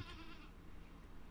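A goat bleating briefly in the Stardew Valley farming game, a faint, short game sound effect set against a soft, steady background.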